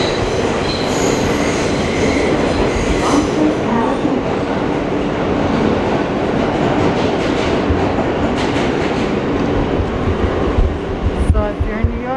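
A New York subway train rolls loudly through the tunnel, with rumbling wheels, clickety-clack rail joints and a brief squeal of wheels near the end, heard close up over a continuous roar.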